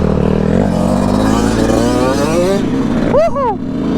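Dirt bikes revving and ripping past on a ride near a construction site, a loud continuous engine drone with rising pitch sweeps, mixed with voices and a brief whoop near the end.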